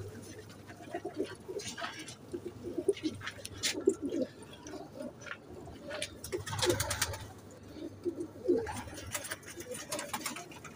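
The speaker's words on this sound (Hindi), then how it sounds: "ये कबूतर है" Pigeons of a golden, teddy-type breed coo repeatedly at close range in a loft or shop, low throaty calls rising and falling over a steady background hum, with no talking.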